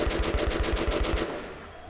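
Rapid automatic gunfire in Metro: Last Light, a steady rhythmic burst of about a dozen shots that stops abruptly.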